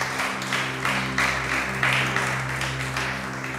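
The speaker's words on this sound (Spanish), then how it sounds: "Dale ese aplauso al maestro." Congregation clapping during a church service, a steady broadband wash of hands with several swelling bursts over a low sustained organ or keyboard drone.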